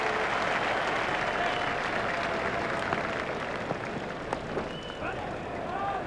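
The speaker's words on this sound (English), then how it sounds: "Crowd were brought to their feet by that shot." A cricket crowd at a one-day international between Australia and England roars and applauds after a shot, a dense continuous wash of clapping and cheering that fills the whole stretch, with commentary faintly beneath.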